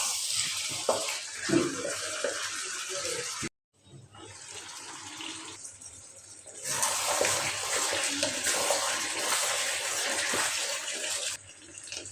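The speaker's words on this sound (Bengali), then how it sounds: "এখন আমি ফুটানো গরম পানি দিয়ে দিব পানি দিয়ে দিলাম" Boiled hot water poured into a cooking pot of browned meat and potatoes, a steady rushing pour near the microphone with a brief break midway before the flow resumes, loud and continuous.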